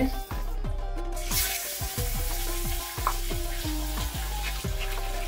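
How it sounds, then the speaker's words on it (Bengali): Eggs frying in oil seasoned with turmeric and salt, stirred in a pan with sizzling and repeated clinking scrapes of a utensil; close, moderately loud, with a few brief background noises. "এখন আমি ডিমটা নেড়ে চেড়ে ভেজে নেব"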